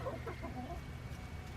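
A flock of about twenty backyard laying hens clucks and murmurs in soft overlapping bursts, close by and steady, with no voices over them.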